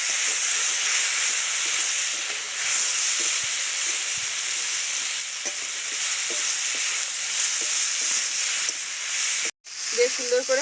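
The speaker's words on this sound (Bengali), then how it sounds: "নেড়ে চেড়ে আবারও বেশ সুন্দর করে কষিয়ে নেব।" Fish head and potatoes with lentil dumplings being stirred and sautéed in a pan, a loud, continuous hissing sizzle that breaks off briefly near the end before resuming.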